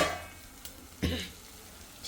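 Chicken frying in a pan during home cooking, a low, faint sizzle with two sharp stirring scrapes, one near the start and a louder one about a second in, then a short clink at the end.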